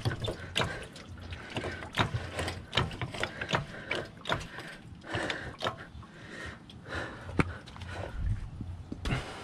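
A ratchet works on the bottom alternator bolt of a Chrysler 300 3.5L Limited, giving quiet irregular clicking and metallic knocks close by, with no voices.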